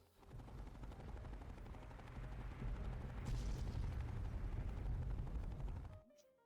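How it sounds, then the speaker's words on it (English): A vertibird flies off over a long, dense wall of rumbling explosions in Fallout 3. The roar holds steady for about six seconds, swells near the middle, then cuts off abruptly. "I called in the strike, escaped on a vertibird, watched everything explode"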